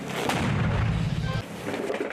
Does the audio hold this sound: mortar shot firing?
yes